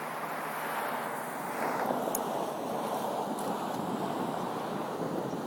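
Pacific Ocean surf at the edge of Golden Gate Park, a steady broad wash of breaking waves with wind buffeting the microphone, continuous and moderately loud with no voices.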